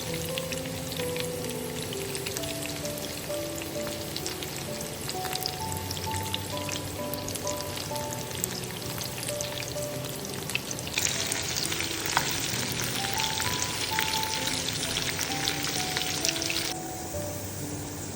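Garlic, onion, pandan and curry leaves fry in oil for a dhal tempering, sizzling steadily and crackling up close, with a faint melody playing underneath the whole time.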